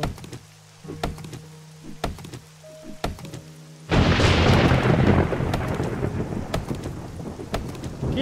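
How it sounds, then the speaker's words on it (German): Thunderstorm in the video game 7 Days to Die: steady rain and a sudden loud rumbling thunder roll that swells and lingers, with sharp drips and clicks over a quiet ambient bed before the crash. "Gewitter!"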